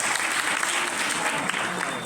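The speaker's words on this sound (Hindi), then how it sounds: "बच्चे के लिए जोरदार तालियां।" Loud, sustained clapping from a crowd at a children's festival in a Dobhi block school gathering, dense and continuous throughout without a break.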